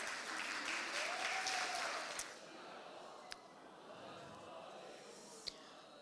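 Audience applause follows a poem reading at an evening community chai night: dense, steady clapping that is loudest for the first two seconds, then thins to a softer, scattered patter with a couple of sharp isolated claps.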